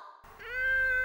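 A cat gives a single short meow, close and clear, rising into a sustained tonal cry after a brief soft lead-in.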